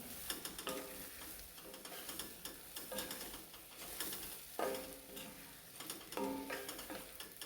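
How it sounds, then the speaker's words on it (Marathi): Masala being stirred into green chillies frying in a pan for stuffed mirchi fry: a faint, steady sizzle broken by a few distinct clinks and scrapes of a spoon against the metal pan. "आणि आपलं उरलेलं जो मसाला आहे तो त्याच्यामध्ये टाकून घेऊया तो सर्व एकसारखं मिक्स करून घेऊया"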